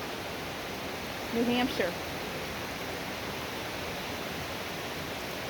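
A creek flows through a rainy, cold forest in New Hampshire, a steady broad rushing of water close by, with a brief voice heard over it.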